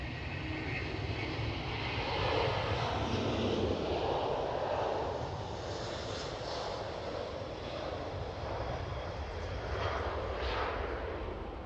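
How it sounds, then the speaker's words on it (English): A Delta Air Lines Airbus A330 departs runway 24 at Amsterdam Schiphol, its jet engines producing a broad, sustained roar that swells and ebbs slightly as it climbs away, heard alone without talk. "Delta Airlines A330 departing runway 24."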